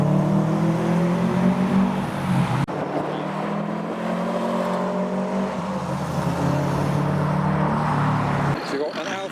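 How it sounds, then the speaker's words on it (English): A Toyota Supra driving past at a drive-by JDM car show, engine hum and whir swelling and fading among other car noise, with someone talking over it throughout. "Oh, and a Supra."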